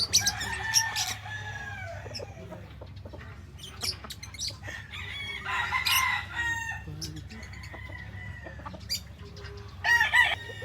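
Sweater gamefowl roosters cluck and crow around a Batangas farm, several crows and clucks scattered near and far over a low steady hum, with faint talk in the background.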